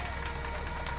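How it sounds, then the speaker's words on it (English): Passengers in the X-Plane 11 flight simulator clap after an A340-500 lands at Abu Dhabi International Airport, a brief burst of dense scattered applause over a steady background rumble. "That's the clap from the passengers"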